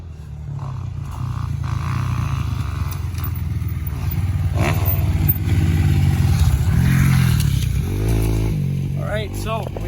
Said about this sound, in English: let's hop on the track.